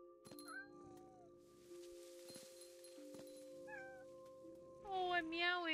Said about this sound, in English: Oh, I'm meowing!